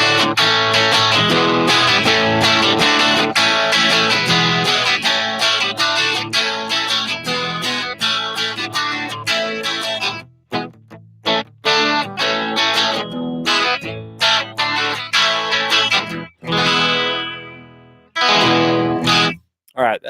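Electric guitar through a Headrush amp-modeling rig with a lightly overdriven, edge-of-breakup tone, playing busy chords and riffs that thin out into sparse, ringing strums near the end.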